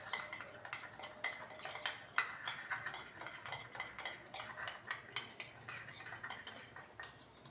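Chapati dough being hand-mixed with salt and a little oil in a kitchen: close, steady clinks and scraping taps against a bowl, repeating irregularly throughout with no talking.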